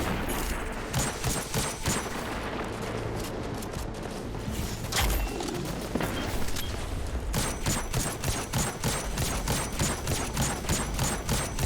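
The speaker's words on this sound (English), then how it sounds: "I just used my last grenade launcher shot" Grenade launcher shots and weapon fire in Destiny 2 during a Grandmaster Nightfall on Inverted Spire, a steady stream of sharp, close reports that settles into a fast, even rhythm toward the end.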